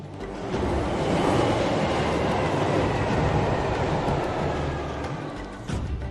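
A train passes on the Sun Railroad in Brazil as a loud, continuous rail rumble that swells, holds steady for several seconds and then eases slightly, with no one talking.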